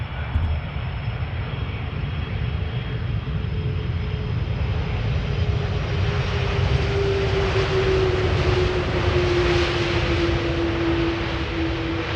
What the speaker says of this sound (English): This is an Airbus A330-300 doing a wheelie.